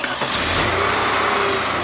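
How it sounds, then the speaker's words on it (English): An old fuel-injected car engine revs up and holds a steady, loud mid-pitched drone, heard close without talk. "Started up a lot easier when we rev it up."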